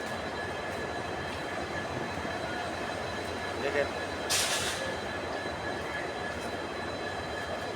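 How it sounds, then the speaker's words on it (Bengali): Trains moving at Guwahati railway platform in Assam, a steady broad rumble of rail cars with a brief metallic squeal-like burst, a person speaking briefly over the station noise. "অনেকগুলা ট্রেন আসে যায়,"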